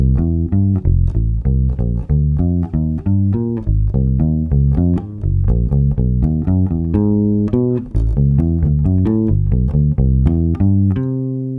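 Major triad chord shapes strummed on guitar one after another in a steady, even rhythm, each ringing briefly before the next, played clearly and up close with no talking.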